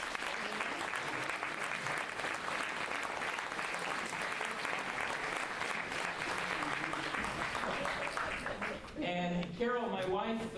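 An audience applauds steadily and loudly for about nine seconds at a community event introduction, then a voice begins speaking as the clapping fades.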